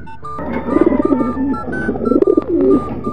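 Pigeons coo close by in a steady run of soft, throaty, rolling calls that carry through the clip over a low background hum.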